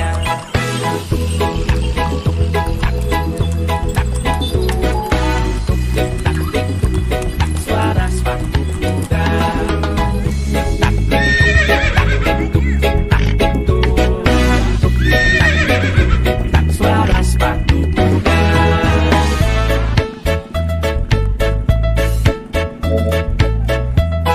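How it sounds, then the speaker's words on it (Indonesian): Clip-clopping and neighing from a carriage horse at a morning market, heard steadily under loud, continuous music. "Mengendali kuda supaya baik jalan"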